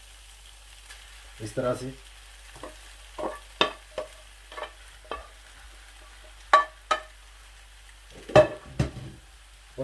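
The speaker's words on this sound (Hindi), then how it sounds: "आलू जो हैं जो मैंने क्रश करके रखे हुए हैं, आप खुद भी देख सकते हैं, वो मैं इसमें ऐड कर दूंगा" Crushed potatoes being added to a pan and stirred as they fry, with a soft sizzle under repeated scraping and clattering spoon strokes at irregular intervals, and a brief spoken phrase.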